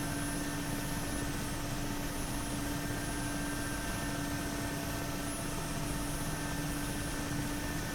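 A Mi-8 helicopter hovers in the DCS flight simulator, its rotor and turbine drone a steady, even roar with no pauses.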